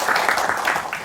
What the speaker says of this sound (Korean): 네, 큰 박수로 환영해 주시기 바랍니다.